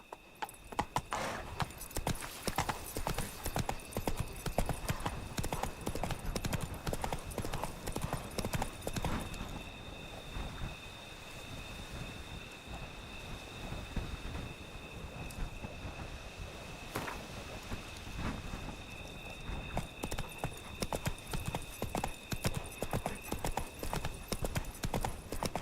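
Roach the horse trotting in The Witcher 3, a steady clip-clop of hooves running the whole time at close range, with a faint breath of wind and no talking.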